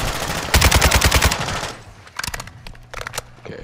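Rapid automatic gunfire in Call of Duty Modern Warfare during a Building 21 push: a loud, dense burst of machine-gun fire, a quieter stretch, then shorter clattering bursts near the end.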